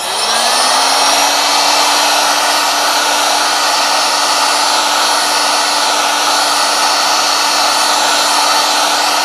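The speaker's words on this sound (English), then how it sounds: "You don't want to hold your heat gun in one spot very long." Heat gun blowing on a Kydex sheet, a loud steady whooshing roar with a constant whine, unbroken for the whole stretch and without any talk.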